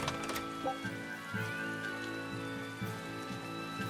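Steady rainfall in the Westgand area of the video game Tales of Berseria, a continuous even hiss of rain on surfaces beneath faint tonal game music, with no one speaking.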